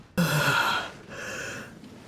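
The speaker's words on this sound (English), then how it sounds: "Yawning without covering your mouth." A Genshin Impact game character yawns once, a sudden breathy voiced yawn that swells and trails off, fairly close and alone.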